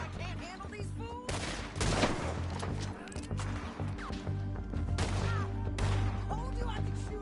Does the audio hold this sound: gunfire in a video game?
yes